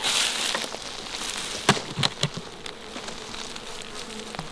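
Honey bees buzz inside a swarm trap, a close, continuous droning hum with individual bees flaring louder as they pass near, no talking.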